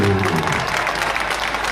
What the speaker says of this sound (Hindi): पूज्य महाराज जी खातिर को गड़गड़ा के ताली होके के चाहिए हो।